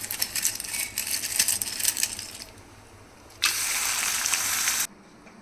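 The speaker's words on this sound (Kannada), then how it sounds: "ಸಂಡಿಗೆ ಆದರೆ ಈ ಥರ ಫ್ರೈ ಮಾಡ್ಕೊಳ್ಳೋದು" Ragi sandige, a millet flour papad, fries in hot oil with a bright, steady hiss that crackles, fades, then surges loud for a couple of seconds before cutting off.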